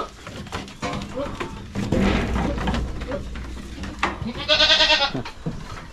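Goats bleating on a farm pen, several short nasal bleats with one loud, wavering cry near the end, close by amid rustling and a voice speaking.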